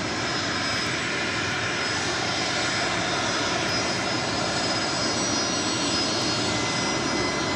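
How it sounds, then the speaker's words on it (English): Gulfstream G450 business jet arriving at Los Angeles airport from Napa, giving a steady, loud, broadband engine roar that holds at an even level without a break and with no voices. "This is a Gulfstream G450 coming in from Napa."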